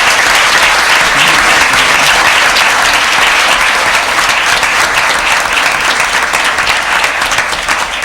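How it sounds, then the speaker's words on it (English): Sustained, dense applause from a large audience at a school board meeting, honoring schoolchildren, fills the whole stretch at a steady, loud level. "Can we give these children a round of applause?"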